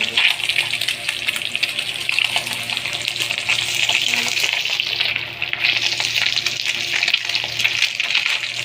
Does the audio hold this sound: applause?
no